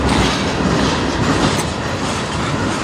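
BNSF 5104, a C44-9W locomotive, hauls a manifest freight train past on the Strathroy Sub, a loud, steady roar of wheels and rail clatter filling the whole stretch, close by and without voices.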